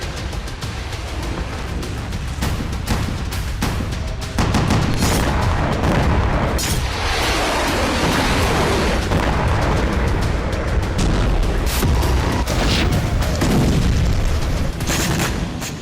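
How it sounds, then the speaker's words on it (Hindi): Rocket strikes on Mount Meron airbase hit by fire from Lebanon: loud, dense booms and blasts with crackling bursts, then a sustained roaring rumble of explosions that continues without pause, with no talk over it. "लेबनान की तरफ से माउंट मेरॉन पर इतनी जबरदस्त एयर स्ट्राइक की, जिससे पूरा एयरबेस तबाह हो गया।"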